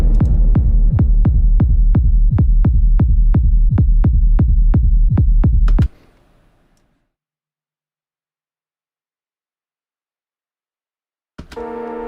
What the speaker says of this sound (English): we want a low-pass kick on this one